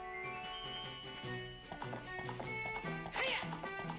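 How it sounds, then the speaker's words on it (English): Horse galloping in Zelda: Ocarina of Time 3D, rhythmic clip-clop hoofbeats in a steady repeating gait over game music, with a brief bright jingle near the end. "Just slap that horse."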